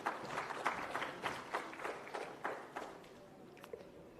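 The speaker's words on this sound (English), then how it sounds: "Round of applause, please, ladies and gentlemen." Audience applause at a public finance conference at the V Convention hall, Novotel Visakhapatnam: a small group claps in distinct bursts, fairly faint and roomy, tapering off near the end.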